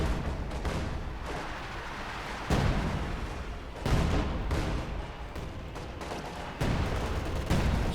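An HM60 mortar barrage in Company of Heroes 2: a run of heavy, booming blasts over the game's battle noise, several loud bursts spread across the clip, with no talking over them.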